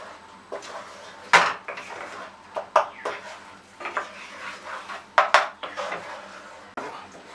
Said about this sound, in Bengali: এটাকে আমি এখন ভালো করে মিক্স করে নেব